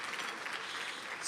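Audience at an alumni dinner claps in a brief, steady burst of applause from many hands, moderately loud and with no voices over it.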